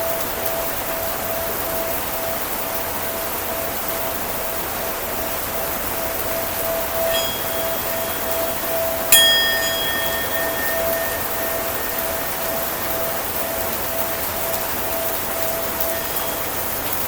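Rain falling steadily as a dense, even hiss throughout, with a faint tonal hum underneath and a brief bright clink partway through, no voices.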